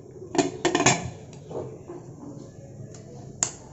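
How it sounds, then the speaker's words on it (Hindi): A metal lid is set onto a pressure cooker, giving a few sharp clanks and clicks up close at the start, then quieter rattles and one last click. "अब हम कुकर का लीड लगा देंगे।"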